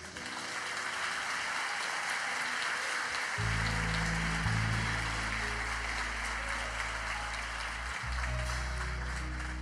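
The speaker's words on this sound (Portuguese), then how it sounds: "Quer aplaudir Jesus?" Congregation applause at a Brazilian church service, a steady wash of clapping throughout, with a deep organ or keyboard drone joining partway through and sustaining under the clapping.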